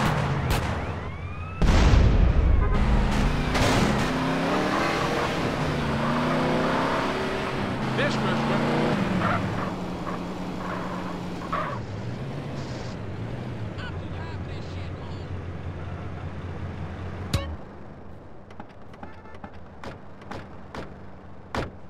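A car's engine roars and drives off during a getaway in Grand Theft Auto, a modded Schafter sedan, loud and sustained under excited in-game voices, with a sharp crack near the end.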